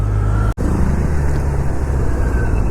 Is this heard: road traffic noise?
yes